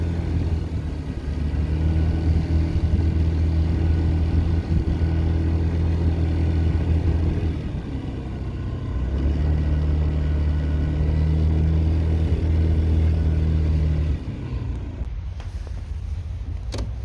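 A Honda Tact AF79 fuel-injected scooter engine runs steadily and close at about 60 km/h, its drone rising slightly, drops briefly, then resumes before cutting off near the end.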